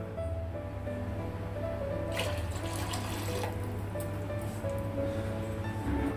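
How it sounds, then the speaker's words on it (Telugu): A continuous pour of milk splashing into a pot, steady and fairly close, with a low background hum and a few brighter splashes midway. "ఇంకొక కప్పు పాలు వేస్తూ ఉన్నాను."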